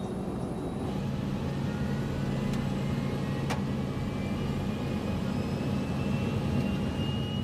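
Airliner accelerating down the runway for takeoff on a LAPA flight, heard as a steady, loud broadband engine roar with a low rumble that holds constant throughout and no voices.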